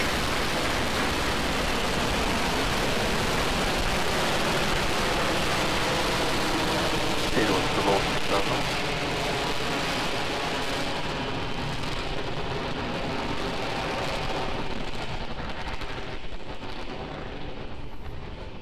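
Falcon 9 rocket engines roaring at liftoff from pad 39A with a Crew Dragon capsule aboard, a dense, continuous broadband rumble that stays loud and steady throughout, with a voice faintly under it.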